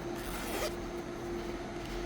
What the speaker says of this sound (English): For some reason this zipper feels a lot better than the other one.